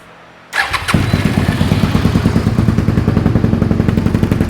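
A Suzuki SV650S motorcycle engine fires up abruptly and then revs steadily on choke, running loud and close with a rapid, even pulsing chatter and no voices.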